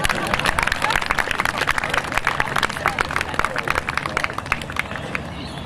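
A crowd claps right after a rifle firing demonstration by a Perth Volunteer Rifle Regiment display group. Dense, lively applause runs close and loud for the whole stretch, with some chatter mixed in before it gradually thins.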